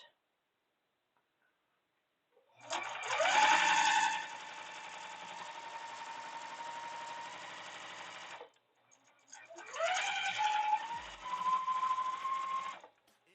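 A sewing machine stitches a quilt in two close, steady runs, a long one and then a shorter one after a brief pause, with a continuous mechanical whir between near-silent gaps.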